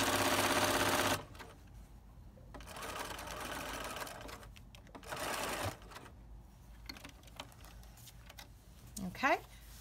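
Sewing machine stitching a quilt back, a loud rapid whir in bursts that stop and start for the back stitch, with quieter pauses between runs and someone speaking.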